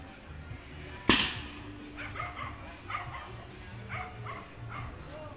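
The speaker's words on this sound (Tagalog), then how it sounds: "Ang dami daw aso" Dogs bark and yip intermittently around Bunica in Antipolo, Rizal: one sharp loud burst near the start, then scattered fainter barks at moderate distance against outdoor background noise.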